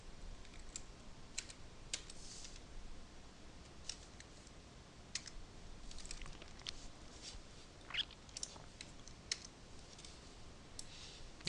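Soft, quick computer keyboard clicks patter in irregular bursts, faint and close, with no one talking.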